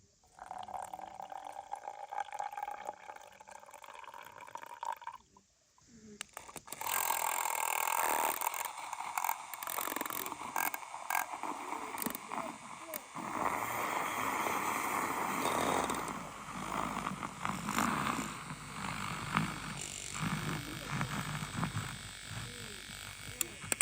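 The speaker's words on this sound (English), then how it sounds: "this is the secret to getting nice frothed milk while you're on the go or while you're out camping" A handheld milk frother whirring in milk for portable espresso while camping, a steady buzzing drone that starts after a brief pause and runs continuously, fairly close and loud.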